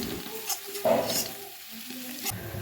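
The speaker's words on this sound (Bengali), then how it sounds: "কিছুক্ষণ ভালোভাবে সমস্ত মশলাগুলোকে কষিয়ে নিতে হবে" Spices with Kashmiri chili powder being stirred and fried in a pan for a mushroom masala, a soft sizzle with a few stirring scrapes, close and fairly quiet, no voices.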